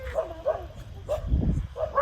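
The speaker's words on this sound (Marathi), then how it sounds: "कुत्रे पण भोकत कुत्रे पण गाडीच्या मागे कसे पळत आहे" Several dogs bark and yip in short repeated bursts while chasing a vehicle along a road at night, some barks close and loud, with engine rumble underneath.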